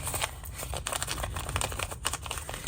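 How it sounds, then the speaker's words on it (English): Steady crinkling and crackling of paper being crumpled by hand, continuous and close, with no voices. "let's crumple it up a bit more."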